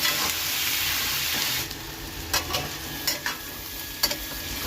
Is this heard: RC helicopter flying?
no